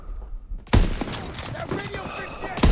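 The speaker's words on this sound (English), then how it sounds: "I'm taking fire." Gunfire in the World War II shooter Call of Duty: WWII during the Battle of the Bulge, loud sharp shots and bursts over a busy battle din, with a quieter lead-in before the first heavy blast.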